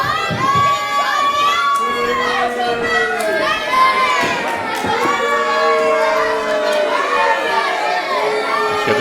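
A loud, close wrestling-show crowd chants and cheers in rhythmic waves, many voices rising and falling together with scattered shouts and claps throughout.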